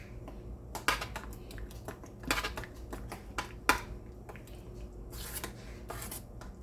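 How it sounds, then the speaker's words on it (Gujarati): A spoon mixes paneer chilla batter seasoned with salt and ground cumin in a bowl, producing a quiet series of irregular clicks and light wet taps against the bowl's sides. "આ રીતે આપણે બધું મિક્સ કરી દેવાનું છે."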